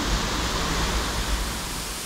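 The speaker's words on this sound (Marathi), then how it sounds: "माझ्या पाठी धबधबा आहे" A waterfall near Sawantwadi sends out a steady, even rushing roar of falling water, continuous and unbroken with no other sounds on top.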